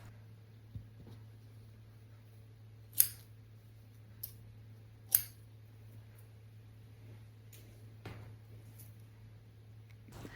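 Scissors trimming loose bits of fabric on a no-sew rag doll, a few quiet crisp snips spaced seconds apart over a steady low hum in an otherwise still room.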